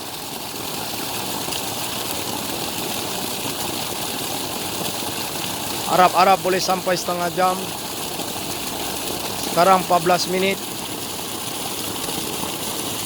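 A tube well pump engine in Sabah, Malaysia, drones steadily as it pumps water, a constant broadband rumble and rush running unbroken through the whole stretch, while someone speaks briefly twice over the noise.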